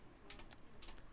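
Computer keyboard typing in short clusters of quick, faint clicks, close by and without speech, during a UK vape show chat stream.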